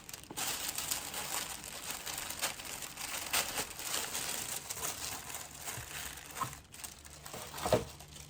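Black Saint Laurent packaging being unwrapped from its box, with continuous crinkling and rustling of paper and close handling noises.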